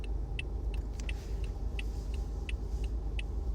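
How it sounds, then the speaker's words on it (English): Car interior while driving, a steady low engine and road rumble with a faint regular ticking, like a turn signal, over it. "And I'm driving right now."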